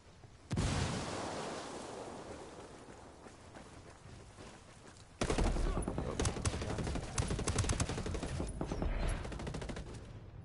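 Video game Ghost War firefight: a frag grenade blast followed by heavy, rapid gunfire, dense bursts of overlapping shots continuing loud and close, with players talking over the action.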